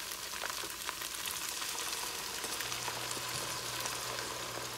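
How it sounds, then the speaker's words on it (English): Beef broth meets a hot pan of softened, translucent onions, producing a steady close sizzle and crackle with scattered pops, continuous and without talk. "Now, my onions are kind of transparent, so I'm going to add in some beef broth"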